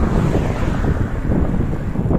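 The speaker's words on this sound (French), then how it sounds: "Là, il y a du vent, tantôt dorsal, tantôt latéral, tantôt facial." Steady wind buffeting the microphone on a mountain bike ride near Alicante, a loud low rumble with gusting flutter throughout and no other sounds standing out.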